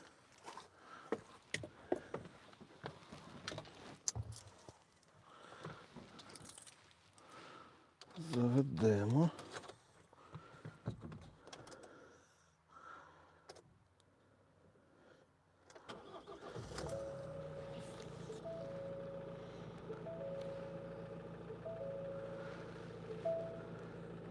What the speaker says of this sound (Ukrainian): двигун працює як часи.